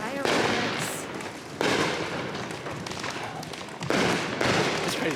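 Summer fireworks explode close by in three loud booms, each followed by a long crackling tail, with people talking between the blasts.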